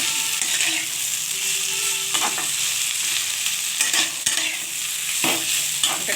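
Okra sizzles and fries in a pan while being stirred, with steady bright crackling and several scraping stir strokes across it.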